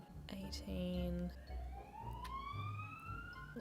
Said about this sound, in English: What is with all the ambulances today?